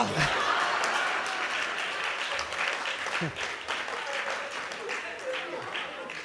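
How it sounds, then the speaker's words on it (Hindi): A crowd applauding at a comedy show, continuously, a broad wash of clapping that stays fairly even, with a few faint voices and a chuckle mixed in. "आप लोग तालियां पीटते हैं"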